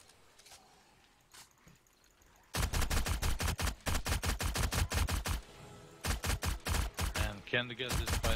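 Rifle fire rattles through a 7 Days to Die blood moon night in several rapid bursts. The automatic volleys are loud and dense and follow a quieter stretch of ambient game sound.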